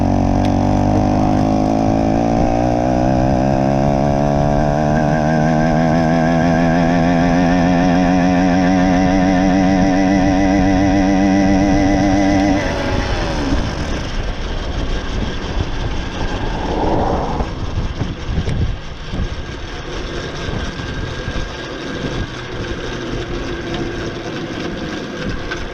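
Engine of a Mk5 BT100 running at speed, a loud steady drone that climbs in pitch as it winds up for about twelve seconds, then drops into rougher, rumbling running with rattling.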